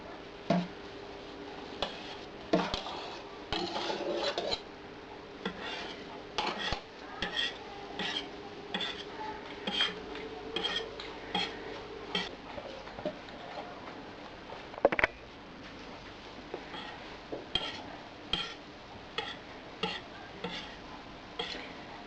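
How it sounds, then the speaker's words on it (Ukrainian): Egg whites folded gently into cotton cheesecake batter in a bowl, a slow series of soft clinks and scrapes from a utensil against the bowl at a steady, unhurried rhythm, faint and close, without talking. "тепер потихеньку буду вмішувати білок"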